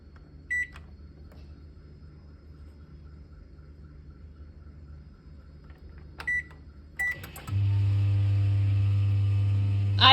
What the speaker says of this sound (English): let's preheat our oven